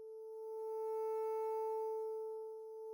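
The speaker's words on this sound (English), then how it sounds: "So you can hear that just gives this really subtle bit crushing." A single held synth piano note with subtle Redux bit crushing, a steady bright tone with soft upper harmonics that swells gently and cuts off at the end, heard alone.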